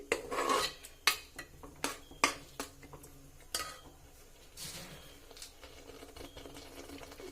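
Metal spoon scraping and clinking against a pot while curd is stirred into egg biryani masala, a series of sharp taps and scrapes early on giving way to softer rubbing, close and fairly quiet with no talk.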